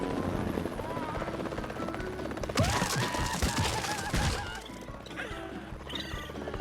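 A helicopter's rotor thumps steadily in the background of an animated patient-rescue scene while a voice speaks and crashing, whooshing effects burst in midway, then fade.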